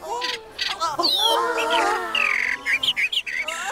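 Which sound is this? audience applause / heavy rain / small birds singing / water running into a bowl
small birds singing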